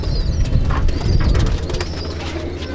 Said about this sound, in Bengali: সব আন্ধ্রা পায়রা লাগানো আছে